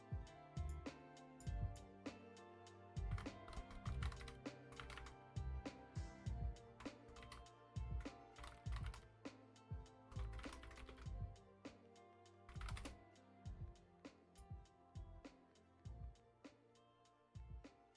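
Steady typing on a computer keyboard, with dense irregular key clicks and occasional heavier thumps running continuously throughout, close up and without speech.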